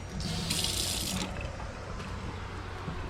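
Water runs from an outdoor sink faucet on a screened porch in a short burst, hissing briefly and then cutting off, leaving a quiet room tone behind.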